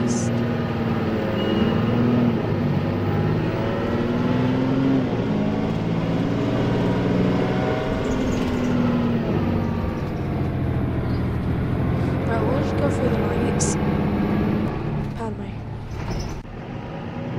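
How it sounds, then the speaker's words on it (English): An articulated bendy bus on route 257 to Stratford drives along with a steady, loud engine drone that holds for most of the ride and eases off toward the end. "It's quite hard to drive in a Bendy bus."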